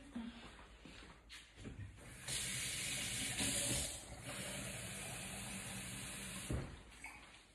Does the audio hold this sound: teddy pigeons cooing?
no